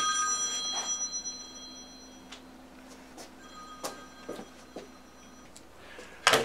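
A telephone rings faintly in the background of a quiet room where an acrylic portrait is being painted; the soft, intermittent rings sit over low room hiss, ending in a brighter burst.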